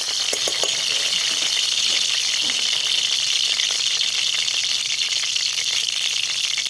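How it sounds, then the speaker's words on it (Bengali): Prawns coated in salt and turmeric fry in hot oil for a Bengali lau chingri dish, giving a loud, close, unbroken sizzle with fine crackling pops throughout. "এবার এই চিংড়ি মাছটা ভেজে নেব।"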